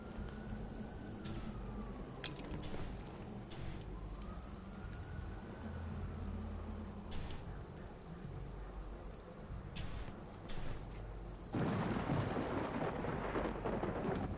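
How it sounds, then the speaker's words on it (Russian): Steady rain hisses in the Watch Dogs video game on PS4, heard faintly throughout with a low rumble underneath, with crickets in the scene. The rain swells louder and denser near the end. "Дождь пошел."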